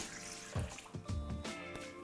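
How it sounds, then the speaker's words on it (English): Warm water poured straight into a mixing bowl for pizza dough, a steady splashing stream lasting about two seconds with a few louder gurgling bursts, close and alone. "First, we're going to start with the warm water straight into a bowl."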